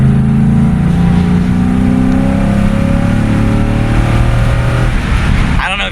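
A truck with a resonator-delete exhaust idles and revs steadily nearby, a continuous low droning rumble that holds throughout and rises slightly near the end.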